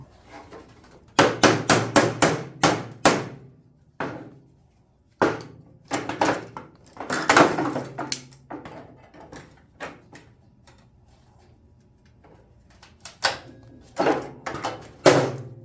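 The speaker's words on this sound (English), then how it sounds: "what I'm doing here with these clamps is I'm going to line everything up." Clamps being set and tapped to line up metal parts for welding, heard as loud, close clanks and knocks in irregular clusters separated by short quiet gaps.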